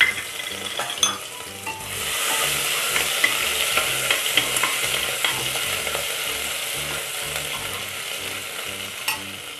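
Curry leaves and garlic paste frying in a pan for mung dal amti, a bright continuous sizzle with repeated scraping and clicking stirring strokes close by.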